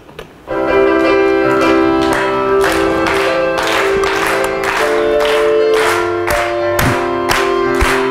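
A congregation at a revival meeting claps in steady rhythm while singing a hymn together, loud sustained voices and organ-like tones carrying throughout, with regular strong claps marking the beat after a brief quiet opening.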